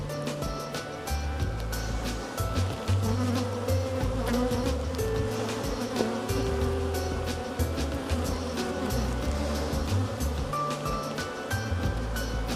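Dense, continuous buzzing of many honeybees around an open hive during an inspection, loud and close, with a steady hum throughout and no talking.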